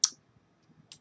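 A computer mouse clicks sharply twice, about a second apart, in an otherwise quiet room.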